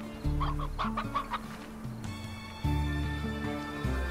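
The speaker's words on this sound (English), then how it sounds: "it's literally just stuffed full of chickens" Chickens cluck in bursts in the video game Slime Rancher, several birds clucking in quick clusters over a steady, droning game music bed, fairly close and clear.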